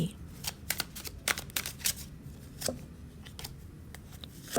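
Tarot cards are shuffled close by in a quick series of crisp riffling flutters and light slaps, several short bursts separated by brief pauses.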